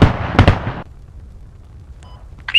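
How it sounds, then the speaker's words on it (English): A rocket slams into a building in the military shooter Squad, a loud close blast with a sharp crack and brief rumble that cuts off into quiet, followed by faint small clicks. "Just inserted that rocket right into that building."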